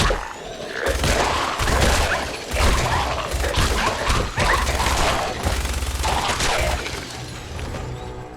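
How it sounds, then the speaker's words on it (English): Continuous roaring minigun fire against feral ghouls in Fallout 4, a dense unbroken loud barrage with crashes and impacts throughout, no speech. "Attacking feral ghouls with a minigun"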